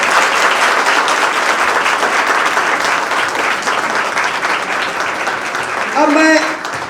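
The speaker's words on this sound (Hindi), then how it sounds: "जोरदार ताली बजना चाहिए," Sustained loud applause from a gathered audience at a ceremony honouring selected candidates, steady clapping throughout with a brief voice near the end.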